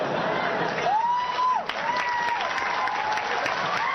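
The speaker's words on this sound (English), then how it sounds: "when you see an entire room of people cheering for Bridget" A room full of people applauding and cheering together, a dense, steady wash of clapping with rising whoops and shouts running throughout.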